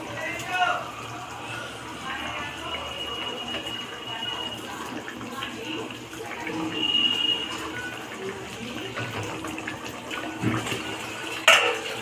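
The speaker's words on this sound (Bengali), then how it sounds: "এবার আমি জল দিয়ে দেব" Water is poured into a cooking pot of potato, pointed gourd and fish roe curry, giving a steady splashing trickle that runs for several seconds, with faint kitchen clatter and a voice in the background.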